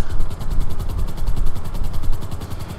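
A helicopter in the video game GTA V Online gives a loud, close, steady rotor chop with rapid rhythmic pulses over a low engine drone, with no talk.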